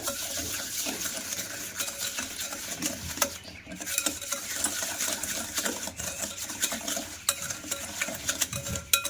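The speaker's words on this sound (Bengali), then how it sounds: "এবার আমি ভালোভাবে মিশিয়ে নেব চিনি আর টক দইটা" Sugar and sour yogurt are mixed together in a bowl for an eggless sponge cake batter, giving continuous close scraping and stirring with light utensil clinks and no talking.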